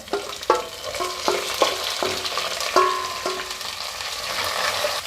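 Finely chopped onions tossed into hot oil in a pan, frying with a loud sizzle while a spatula strikes the pan in a series of sharp, evenly spaced clinks.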